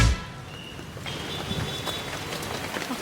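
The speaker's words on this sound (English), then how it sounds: "It had to rain right now." Steady rain falls on a city shopping street, a continuous hiss of drops without speech.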